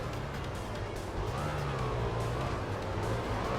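Motorcycle engine in the racing video game Valentino Rossi The Game, on the Jerez circuit, droning steadily and rising in pitch as it accelerates, loud and continuous with no talk over it.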